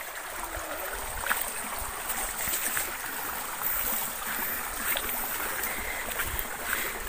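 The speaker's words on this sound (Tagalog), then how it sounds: "so ilog, oh." Water flows steadily in a river beside rice fields in the countryside, a continuous soft rushing wash with faint splashes, heard alone and fairly quiet.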